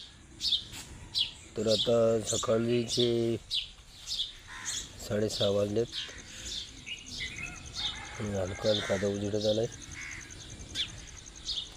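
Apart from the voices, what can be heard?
birds chirping at dawn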